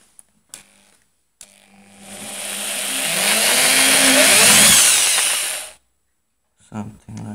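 A jigsaw cuts through melamine wood in one loud, harsh buzzing burst of a few seconds that swells and then cuts off abruptly, with brief knocks and handling sounds before and after.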